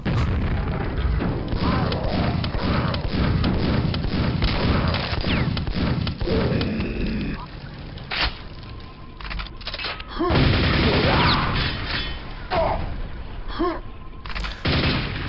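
Rocket ogres launching rockets in the Quake map Remix of the Damned by Kell, with heavy booming explosions and thuds mixed with gunfire, loud and dense for the first half, then sparser blasts with gaps in between.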